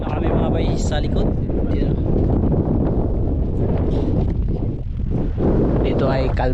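Strong wind buffeting a boat sheltered behind an island, a loud, continuous rushing roar with gusty swells and rumble, with a voice speaking faintly at moments.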